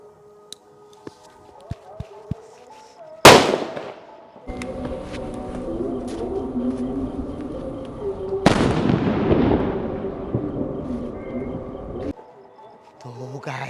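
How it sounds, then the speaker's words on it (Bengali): A medium Kali firecracker bursts in a sharp, loud bang during Diwali, followed by crackling and a second big blast, with other distant fireworks popping around and a lingering rumbling roar afterward. "এর থেকে বড় বম আছে আমার কাছে, এটা হলো মাঝারি। তো এটা ফাটিয়ে দেখি।"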